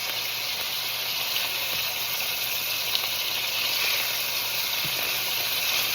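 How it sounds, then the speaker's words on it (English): Braciola meat searing in a hot pan, giving a steady, even sizzle and hiss that runs close and unbroken throughout with no talking. "You're just kind of searing it off to seal in the juice."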